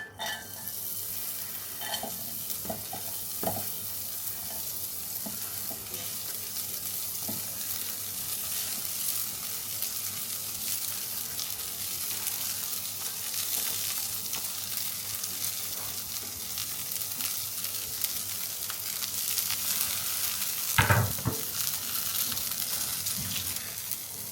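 Okra roasting in a little oil in a pan over a medium flame gives off a steady, broad sizzle, with occasional stirring knocks and a louder scrape near the end.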